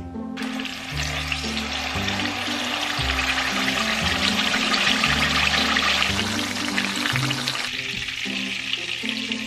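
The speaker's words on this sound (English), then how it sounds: "We're not trying to cook it at this point, we're just trying to sear it." Steak searing in canola oil in a cast iron skillet, a loud continuous crackling sizzle running throughout, up close with no talking, partly layered with background music.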